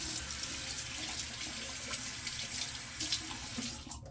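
Water runs from a tap to wet a shaving brush, a steady, fairly quiet splashing stream continuing throughout.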